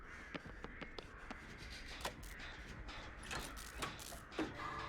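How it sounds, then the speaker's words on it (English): Crows in a video game, several harsh caws scattered across a few seconds over a low ambient rumble, moderately near with no talking. "I was hearing the crows."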